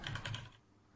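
Quick typing on a computer keyboard, a short run of about five crisp key clicks close by that stops after half a second, leaving faint room noise.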